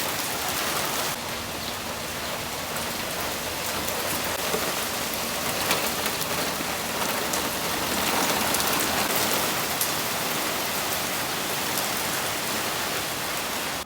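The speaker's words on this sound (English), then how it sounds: "And it looks like the rain came through." Steady rain pours down outdoors where work on a vehicle with a bad starter has stopped, a dense, even hiss of drops on surfaces lasting throughout with no voices.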